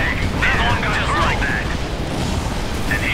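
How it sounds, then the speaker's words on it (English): Cannon in Red Alert 3 Uprising firing and exploding, a loud dense booming burst layered with game unit voice chatter and effects over a few seconds. "Load the cannon!"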